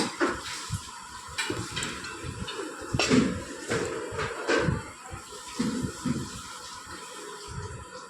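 Kofta mixture being mixed by hand with arrowroot in a bowl, soft irregular clinks and knocks against the bowl with squishy handling, close and fairly quiet.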